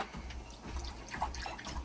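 Cold tap water runs steadily into a container for homemade L. reuteri yogurt, a continuous close rushing and splashing with no voices.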